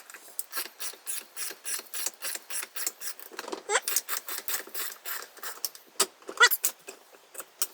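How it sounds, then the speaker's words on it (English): Ratchet handle worked during full-length resizing of a rifle case, a close, loud run of rapid metallic clicks in a steady rhythm, one brief squeak partway through, no talking. "I'm going to use the ratchet."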